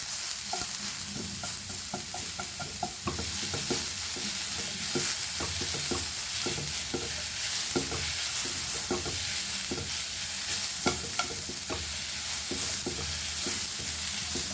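Onion and papaya dry-roasting without oil in a pan over a medium flame, a steady broad hiss with frequent scraping stirs and light knocks throughout, close and fairly loud, no voices.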